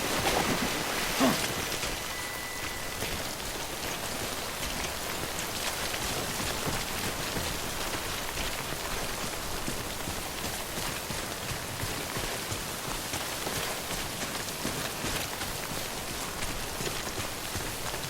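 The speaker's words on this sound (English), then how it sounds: "Don't stay out in the rain any longer than you have to." Timefall rain from the video game Death Stranding falls steadily as a dense, even hiss of drops, continuous and fairly close, with a faint tone briefly over it and no talk.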